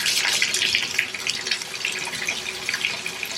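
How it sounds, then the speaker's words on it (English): Water gushes steadily from a tap, a bright continuous splashing with small flickers, close and fairly loud with no voices. "at least the water's on"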